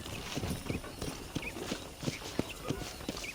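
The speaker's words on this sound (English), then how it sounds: "I picked out a fine horse for you." Horse hooves clip-clop at a steady walking rhythm in the Western video game Red Dead Redemption, moderately close, with faint ambient outdoor game sound underneath.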